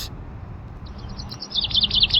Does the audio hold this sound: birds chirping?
yes